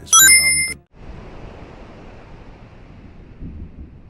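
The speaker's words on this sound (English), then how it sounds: "A storm?" Steady rushing wind and surf noise of a storm in the video game Kingdom Hearts Final Mix, moderately loud and constant, following a brief burst of bright tonal game sound at the start.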